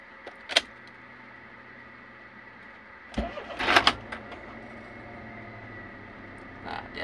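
A Toyota Avanza 1.3 engine idles roughly, a low steady hum close by, broken by a sharp click early on and a cluster of mechanical clunks and rattles midway.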